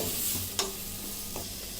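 Mixed vegetables are stirred into frying masala for vegetable kurma, a steady sizzling hiss in the pan with a couple of soft scraping strokes.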